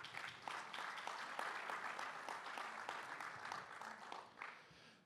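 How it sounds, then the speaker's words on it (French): Applause from a conference audience at the West Web Festival fills a steady five-second burst of dense clapping, fairly quiet overall and fading out at the end. "On peut l'applaudir."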